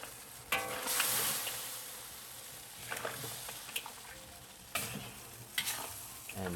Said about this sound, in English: Just gonna put all the scallions in there, let it simmer, and then turn it over.